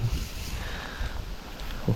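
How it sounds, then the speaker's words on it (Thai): Strong wind on open water during a fishing outing buffets the microphone in a constant roaring rush, with occasional low thumps of gusts and faint boat and water noise beneath. "วันนี้ลมแรงด้วยครับ"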